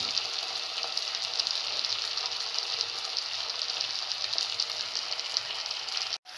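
A scrambled egg and tomato mixture cooks in a pan for a cinnamon stir fry. A constant bright sizzle holds at an even level throughout with no voices, then drops out briefly right at the end.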